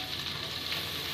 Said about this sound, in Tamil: தேங்காயும் அதிலே போட்டு பொன்னிறமாக வறுத்து தனியாக எடுத்து வச்சுக்கலாம்.